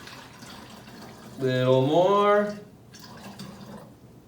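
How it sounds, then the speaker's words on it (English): Water pours through a funnel into a plastic bottle in a short gurgling burst that rises in pitch as the bottle fills, with a brief spoken remark just before it and quiet room tone after. "put it on top of the lid, or top of the bottle, and begin filling water"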